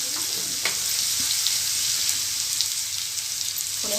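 Spices roasting in a hot pan for a mango curry (amti), a steady dry sizzle with a few scraping stirs of a spoon, close and continuous with no voices.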